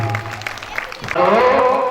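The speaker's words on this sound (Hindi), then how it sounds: "ताली" Brief burst of audience clapping at a devotional singing group's gathering, starting after a short pause and rising into steady, moderately loud applause.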